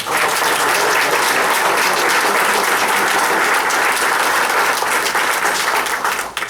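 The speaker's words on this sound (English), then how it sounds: "Let's give those guys a big round of applause." A crowd at a June 2024 district attorney debate applauds the candidates, a loud, sustained burst of clapping that fills the room for several seconds without pause.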